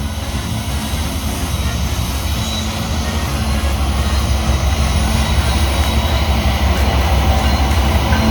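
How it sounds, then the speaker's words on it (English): A loud, continuous rumble of a coal train led by an AC44C6M locomotive rolling past close by near Roanoke, steady and heavy throughout with a droning low roar. "we would hear the rumbling of a coal train being led by an AC-44 C6M"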